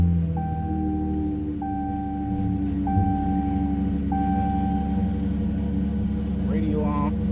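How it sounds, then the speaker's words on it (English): A Dodge Challenger's Pentastar V6, fitted with new coil packs, runs at a steady low idle close by, with a repeating electronic chime ringing over the engine hum. "start her up"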